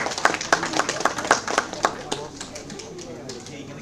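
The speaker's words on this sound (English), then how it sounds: "Can we expect a round of applause, everyone?" Scattered, fairly sparse clapping from a seminar audience, a few distinct hand claps at first that soon thin out and fade.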